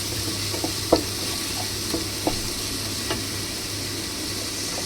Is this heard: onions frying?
yes